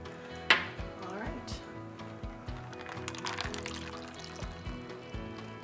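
A caramel apple martini poured from a cocktail shaker into a glass, opening with a sharp clink, then a soft steady trickle of liquid with faint glassware clatter in a quiet room.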